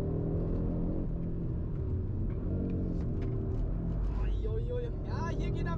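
A 2022 Audi RS3 drifting on a dirt track, its engine a steady loud rumble with rising revs, tires throwing up dirt, under continuous speech.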